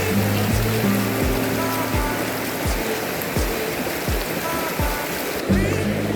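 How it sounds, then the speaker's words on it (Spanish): A mountain stream of clear spring water rushing steadily and loudly close by on a countryside walk, a continuous full flow with faint voices under it. "Este es el segundo arroyo, es un poco más grande que el anterior."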